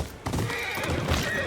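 A horse whinnies in the video game Ghost of Yōtei, a loud, drawn-out neigh over the clatter of hooves and ambient game noise, with no speech.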